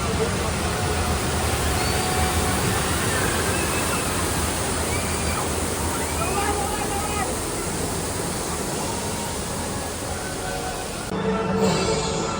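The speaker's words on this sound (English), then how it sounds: "And a rapids ride." Rushing water of a rapids ride at Europa Park, a dense steady roar of churning, splashing water heard from nearby with faint crowd and park sounds mixed in.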